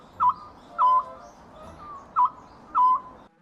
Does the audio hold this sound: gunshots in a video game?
no